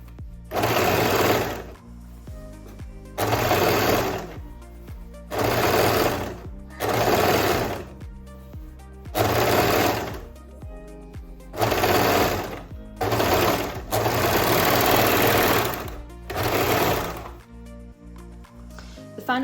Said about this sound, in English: you can go ahead and overlock the seam allowance of the armhole